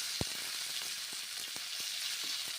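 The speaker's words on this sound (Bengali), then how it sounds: "ফার্স্টে নেড়ে চেড়ে ভেজে নিচ্ছি মশলার সঙ্গে" Shelled green peas frying with spices in a pan, a steady soft sizzle broken by several sharp clicks and scrapes of stirring, with no talking.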